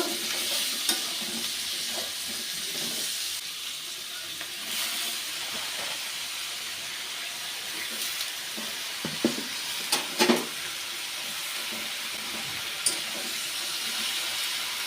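Vegetables seasoned with turmeric and salt sizzle steadily in a pan while a utensil stirs them, with occasional sharp scrapes and clatters over the constant hiss.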